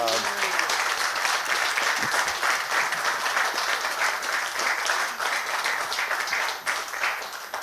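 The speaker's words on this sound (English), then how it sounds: "could I please get a round of applause for our" A conference audience gives a sustained round of applause for the speakers, dense steady clapping filling the room, with faint talk beneath it.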